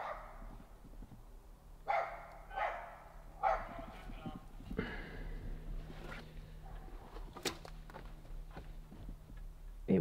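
Neighbors' dogs bark several times at a distance on land being cleared for a house, the barks spaced irregularly over a low background hum, with someone talking at points.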